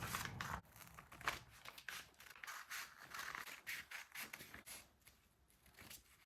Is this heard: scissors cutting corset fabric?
yes